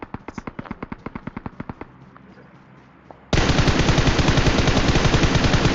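Automatic gunfire in the battle royale game BGMI: a rapid rhythmic burst of shots, a short lull, then a loud dense continuous barrage of close firing to the end.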